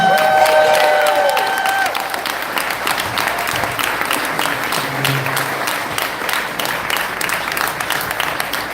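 Sustained applause from an audience for Senator Rand Paul at a campaign event at Gourmeltz in Spotsylvania, Virginia, steady dense clapping with some cheering, fairly loud and filling the whole stretch.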